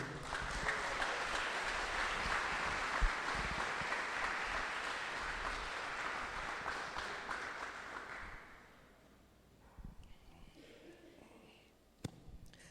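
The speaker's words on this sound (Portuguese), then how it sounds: "Pode ficar de pé, por favor, dê um aplauso ao Senhor." Church congregation claps loudly and steadily for about eight seconds, then the applause fades to quiet room tone with a few faint sounds and a sharp click near the end.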